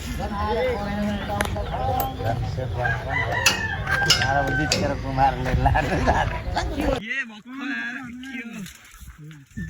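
A rooster crows through dense, busy background noise, loud and close, with voices and clutter around it; the bustle drops away near the end.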